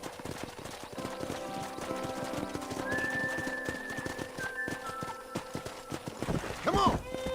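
Horse hooves clip-clop at a steady pace in the Red Dead Redemption video game, with a whinny near the end, set against background music and game sounds at a low level.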